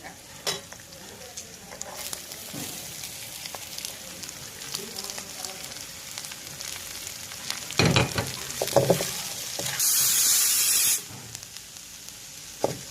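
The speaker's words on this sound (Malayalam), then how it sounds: "നമ്മുടെ മുട്ട കഴിയുമ്പോൾ നമുക്ക് സവാള ഇടാവേ" Sliced onions dropped into a hot pan with cooked egg sizzle steadily while a spatula scrapes and clatters. There is a loud burst of frying midway and a sharp hiss near the end, with faint talk in the background.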